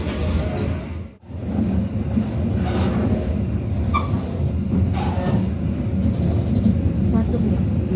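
The Dharmawangsa economy train pulls into Cirebon Prujakan station with a steady low rumble and rolling wheel noise, joined by faint metallic squeals and clanks, while people talk nearby.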